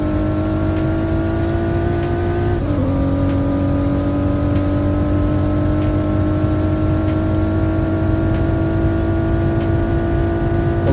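A car in the Roblox game SWFL accelerates hard from a standing start, a loud, continuous engine drone climbing steadily in pitch with a quick dip at a gear change, then rising again throughout.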